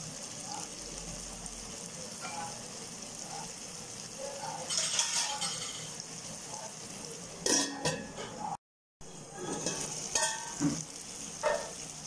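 Onions and tomatoes sauté in a pan with a soft, steady sizzle, broken by scattered utensil scrapes and clinks. Speech is heard faintly at times.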